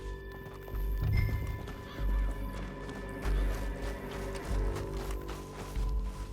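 A horse's hooves clip-clop at a fast, steady gallop in Red Dead Redemption 2, with a neigh or whinny breaking in, close and loud, over low rumbling background noise.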